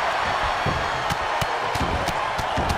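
Loud crowd cheering and roaring at a live combat event, with a steady wall of noise punctuated by sharp slams and impacts, no clear talk.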